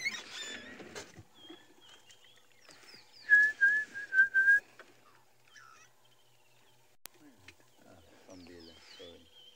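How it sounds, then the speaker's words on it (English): A starling calls on a wildlife safari morning, giving bright whistled chirps and warbling notes in short bursts, with a louder run of clear whistles in the middle and some quiet talk near the end. "We have a starling there calling this morning."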